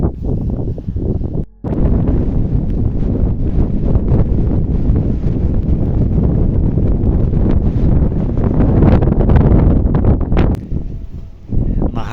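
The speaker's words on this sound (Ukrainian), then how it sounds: "цей сильний боковий вітер просто не залишає шансів продовжувати маршрут" Strong side wind gusting across a mountain ridge in the Svydovets range of the Ukrainian Carpathians, in cold rain: a loud, continuous roar buffeting the microphone, with brief lulls near the start and near the end and no talking.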